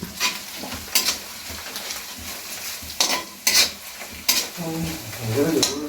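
Spices with cumin are stirred and frying in a pan for a beef dish, with bright scraping strokes of the spoon at irregular intervals over a steady low sizzle, close and fairly loud, with no talk.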